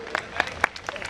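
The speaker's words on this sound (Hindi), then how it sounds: "एक बार जोरदार तालियों से" Scattered, fairly loud hand claps land in a quick irregular pattern at an Aam Aadmi Party women's and workers' gathering, mixed with voices.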